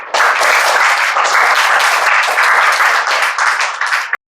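An audience claps to welcome two guests at an Independence Day function in a coaching institute, a loud, dense and steady burst of applause that holds strong and then cuts off abruptly.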